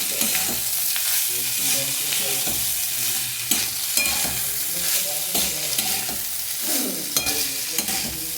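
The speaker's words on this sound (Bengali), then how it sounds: "দেখো এবার নাড়ছি আমি।" Homemade egg fried rice is stirred in a frying pan, with a steady sizzle under repeated scraping and tossing strokes that stay close and fairly loud throughout.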